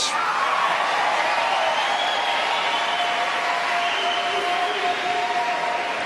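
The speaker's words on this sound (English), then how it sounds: "Waiting for the applause." A Republican presidential debate audience applauds in a steady, dense wash of clapping that holds at an even volume throughout.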